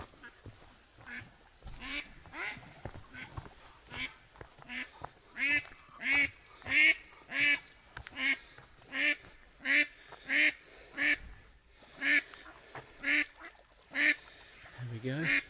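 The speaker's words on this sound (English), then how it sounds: "Some ducks there." Ducks quacking on a small lake at a touring park, a close run of loud, rhythmic nasal quacks that start faint and grow steadier and stronger, repeating roughly every half second.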